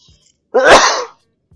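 A single sharp, loud sneeze bursts out close by, surrounded by near silence.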